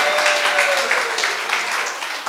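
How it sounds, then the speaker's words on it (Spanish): A church congregation applauds together, a dense, loud, steady wash of clapping hands filling the space, lasting a couple of seconds with a faint voice underneath. "Aplaude esta mañana."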